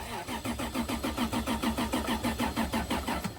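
A car engine cranks with a rapid, regular starter rhythm for several seconds, chugging repeatedly without settling into an idle, close and fairly loud.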